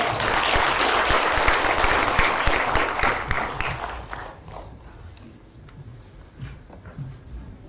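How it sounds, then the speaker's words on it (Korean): Applause from a forum audience at a Korean business conference: dense clapping swells loudly at first, then thins out and fades over the last few seconds to scattered claps and room noise. "큰 박수 부탁드립니다"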